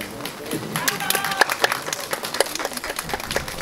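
Spectators at a Feeria dance ensemble concert applaud in a steady patter of many hands, moderately loud, with crowd noise mixed into the clapping.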